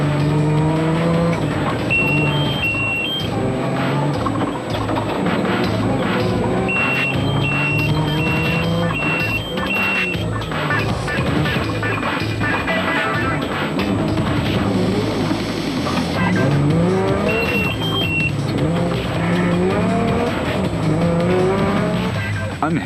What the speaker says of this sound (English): The Zermattens were still going well in their Nissan hardbody and nailing some of the slower traffic on the way